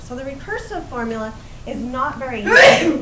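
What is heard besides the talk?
sneeze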